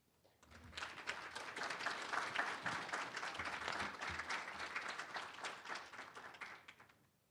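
Applause from the audience after a STEM keynote address at Saint Mary's College, swelling quickly and holding as a sustained, rather distant patter before tapering off.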